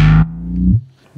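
A short, loud synthesized bass line, filtered and distorted, with a low sustained note that bends in pitch before cutting off, heard alone.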